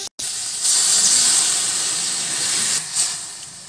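Water poured into a hot cooking pan of bitter gourd, bursting into a loud, steady sizzling hiss that holds for a few seconds and then eases slightly.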